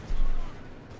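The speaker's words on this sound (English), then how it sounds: "Artillery firing down here, but it all misses." Artillery fires in the real-time strategy game Company of Heroes 2, a single deep booming blast that swells and fades within a second, loud and low.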